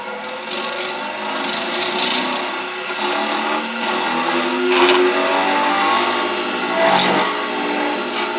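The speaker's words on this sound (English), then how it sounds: "Or you can use a skew chisel." Skew chisel cutting a wooden pen blank spinning on a lathe, made without a mandrel: a continuous close scraping and rasping hiss with a steady high whine, swelling and easing as the cut moves.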